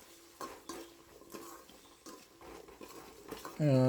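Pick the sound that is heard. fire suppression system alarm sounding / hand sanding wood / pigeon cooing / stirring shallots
stirring shallots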